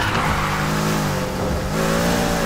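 A Volkswagen Beetle in the racing game Need For Speed Heat, its engine droning loudly and steadily with a rising, revving tone throughout.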